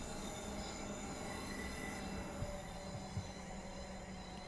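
A Class 350 electric multiple unit in Train Sim World 5 runs toward Birmingham New Street, giving a steady, even rumble and hiss of wheels on rail with faint squealing and a couple of soft clicks, continuous throughout.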